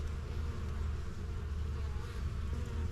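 Dense, steady swarm of honeybees buzzing close around an opened hive during a beekeeper's inspection, a continuous droning hum with no talk.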